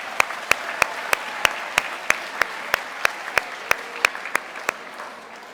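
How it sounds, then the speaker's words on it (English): Applause for Luke, a student, at a seventh-grade school awards assembly: steady, evenly spaced sharp claps, roughly three per second, standing out over a soft crowd wash throughout. "how about a round of applause for Luke for designing that?"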